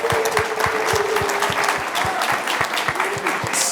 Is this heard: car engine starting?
no